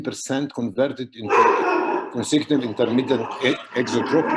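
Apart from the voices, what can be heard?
dog barking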